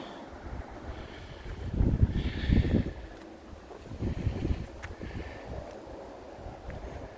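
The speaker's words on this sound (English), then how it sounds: "Over there's getting battered with the wind today." Gusty wind batters an outdoor allotment garden, rushing and buffeting the microphone in uneven surges, strongest in a loud gust early on, then continuing as a lower, steady roar with occasional rustles.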